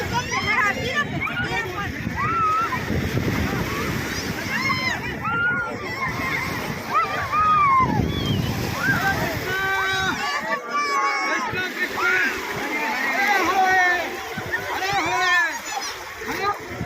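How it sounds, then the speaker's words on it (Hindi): Pilgrims and small children splash and dunk in the sea at Rameshwaram, with steady churning water and sloshing under a lively crowd of voices and children's chatter. "नन्हे नन्हे बच्चों को समुद्र में डुबकियाँ दिलाई जा रही है"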